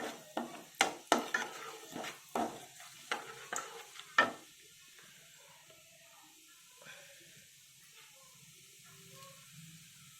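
Cumin seeds sizzle in a little hot oil for a spicy puffed rice snack, with a quiet steady crackle. Several sharp stirring clatters against the pan come in the first few seconds, then the frying hiss continues softly on its own.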